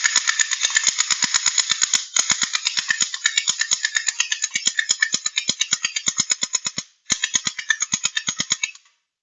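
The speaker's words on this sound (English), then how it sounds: "We're going to go ahead and shoot and test the FPS on it." Rapid, steady bursts of shots from a DEHIRY/RIUZI M416 gel ball blaster, a medium-size mechanical blaster firing repeatedly with sharp, evenly spaced cracks over a continuous motor whine, with two brief pauses, close and loud.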